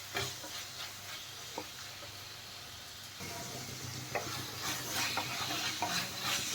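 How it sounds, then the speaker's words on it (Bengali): Mushrooms and capsicum are sautéed with spices in a pan. A soft, constant sizzle is broken by occasional clicks of a stirring spoon, and it grows a little louder toward the end. "দেখেন এখন আমি মাশরুম আর ক্যাপসিকামটা দিয়ে দিলাম, দিয়ে আরেকটু কষিয়ে নেব।"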